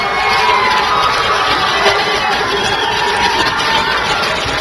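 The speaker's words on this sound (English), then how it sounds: "Central crowd on their feet" Johnson Central home crowd at a Kentucky state high school baseball tournament game cheering steadily and loudly, a sustained outdoor roar of many voices with children shouting, heard from within the stands.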